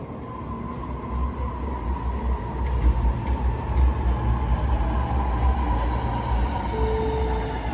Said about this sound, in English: The train to Sydenham is going to enter platform number 2.